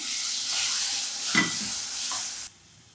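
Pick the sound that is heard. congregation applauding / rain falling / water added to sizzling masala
water added to sizzling masala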